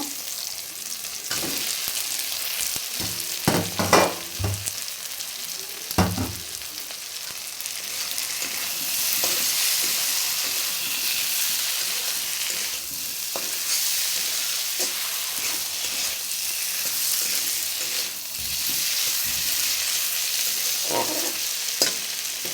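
Prawns fry in a pan for a Bengali prawn curry. A continuous sizzling hiss runs throughout, with clattering stirring knocks early on and a few more scattered scrapes later.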